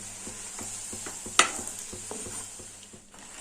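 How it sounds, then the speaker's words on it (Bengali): A vegetable snack shallow-frying in a pan over a low flame makes a soft, even sizzle, with one sharp click partway through. "গ্যাসের ফ্লেমটা লোতে রেখে আস্তে আস্তে উল্টে পাল্টে ভেজে নেব"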